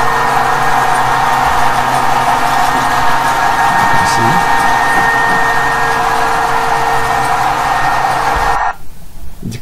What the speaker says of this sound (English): Which electric motor now is the one that do the work of turning. It turns the two machine because it has the capacity to do that.